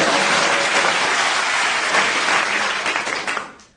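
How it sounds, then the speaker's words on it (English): Studio audience at a comedy panel show bursts into sustained applause, broad even clapping that tails off near the end. "Give the other three applause."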